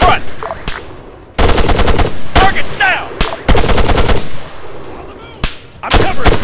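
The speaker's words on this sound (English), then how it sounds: "Nichols, engage that machine gunner, front! Contact on the ridge line, focus your fire" Machine gun fire in ARMA 3 infantry combat near a village, loud close bursts of rapid automatic shots in several separate volleys with short pauses between them.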